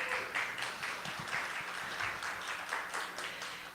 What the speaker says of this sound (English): Give him a big round of applause for staying with us.